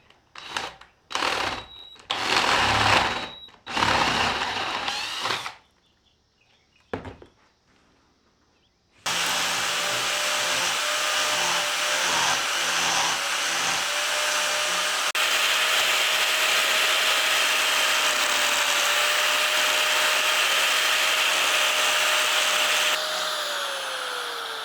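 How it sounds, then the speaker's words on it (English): After some clattering and pauses, a power drill bores into a large cherry burl in a woodworking shop, a loud continuous whine and grinding drone that holds steady for about fifteen seconds. "I'm gonna grab the drill and get that taken care of."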